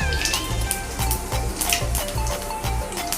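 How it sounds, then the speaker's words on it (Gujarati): Mustard seeds crackle and sizzle steadily in hot oil in a pan while cooking a Gujarati cabbage and potato dish, with a dense continuous fry and bright popping flecks throughout, close and fairly loud. "હવે આપણું તેલ ગરમ થઈ ગયું છે, એમાં આપણે રાઈ નાખીશું।"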